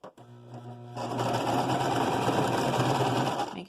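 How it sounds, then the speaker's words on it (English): Sewing machine back stitching over a tie on a fabric ear-loop mask: a brief low hum, then a loud, steady, close whirring rattle of the stitching that runs continuously for about three seconds. "Make sure you back stitch over that tie to secure it."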